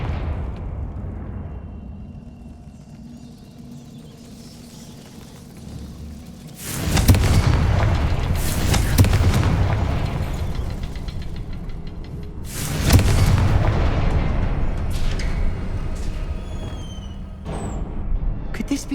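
Two heavy blasts from the Confringo fire spell burst out in Hogwarts Legacy, each a sudden loud boom followed by a rumbling, crackling tail, separated by a few seconds of low ambience.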